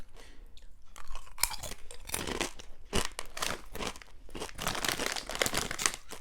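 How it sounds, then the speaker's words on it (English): Crunching of Myrons' Stars Special pork crackers (chicharon) with a generous fat layer, loud close-up chewing bites with crisp crackling repeating steadily for several seconds, no talk. "The crunch is just exactly what you would get from the best chicharon outlets in the Philippines"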